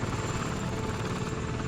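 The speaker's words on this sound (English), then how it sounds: "The police battle helicopter." Steady whirring rotor drone of a police battle helicopter in the Lego Batman video game, continuous and fairly loud with no talk over it.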